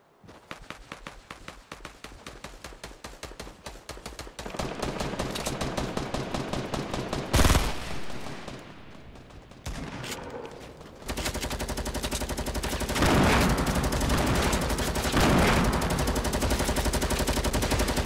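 Rapid automatic gunfire in a video game, a long run of fast, close bursts building into heavier, denser firing with short breaks between volleys.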